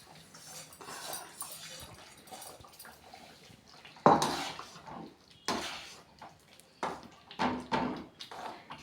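Roasted rava being stirred into vegetable rava kichadi in a pan, with intermittent scraping and clanking strokes of a spoon against metal, several sharper knocks toward the end, a dog whimpering faintly in the background, and no talking.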